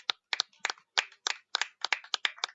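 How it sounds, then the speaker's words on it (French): About a dozen individual hand claps, close and crisp, in an uneven rhythm with short gaps of silence between them, at a regional pétanque final. "j'applaudirai volontiers"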